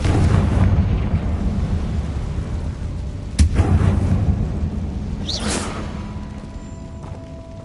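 A Confringo spell detonates in Hogwarts Legacy: a sharp cracking burst followed by a rolling boom and a whooshing flare, set against a steady low ambient rumble.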